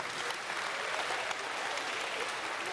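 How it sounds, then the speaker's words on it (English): Audience applause at a jazz history talk and performance, a steady, even patter of many hands clapping, fairly distant and consistent throughout. "Now, round of applause."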